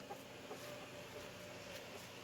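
Soft, faint clucking of a chicken in the background, a few short calls over a quiet, low hum.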